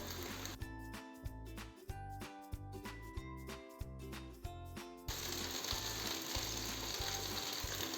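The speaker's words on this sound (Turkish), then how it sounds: "Böyle birkaç tur çevirerek köfteleri tamamen kızartacağım." Meatballs sizzling in a frying pan with intermittent clicking and mechanical ticks, the frying hiss growing steadier and louder toward the end.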